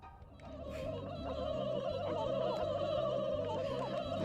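Human voices imitating turkey gobbles in a South Park video game, a steady warbling gobble chorus that grows louder and persists over a low rhythmic background tone.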